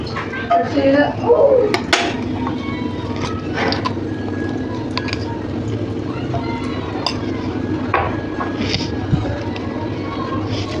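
A metal pan is set down on the stove in a kitchen, making a few close clanks and scrapes of cookware near the start. Softer handling sounds follow against quiet background noise.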